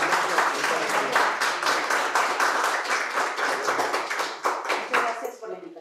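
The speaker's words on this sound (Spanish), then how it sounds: "Pues vamos a dar un fuerte aplauso a nuestro invitado." A seminar audience claps to welcome a guest speaker, with distinct, rhythmic handclaps close by, steady for about five seconds before fading out.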